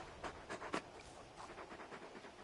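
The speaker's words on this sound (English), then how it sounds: "You're just a big puppy, aren't you? A very big puppy." Torgal, the large dog in Final Fantasy XVI, panting quietly in short rhythmic breaths, a few stronger puffs early on, then softer and faint.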